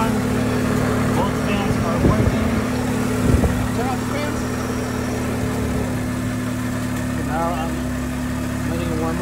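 A car fitted with a Mazda RX-8 rotary motor idles while warming up, making a steady, even drone with a low hum close by, with a brief voice and a few small knocks.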